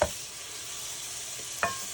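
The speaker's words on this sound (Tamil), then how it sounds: "வெங்காயம் வதங்கட்டும்." Onions sautéing in hot oil in a pan, a soft steady sizzle with brief stirring scrapes at the start and near the end, heard alone and fairly faint.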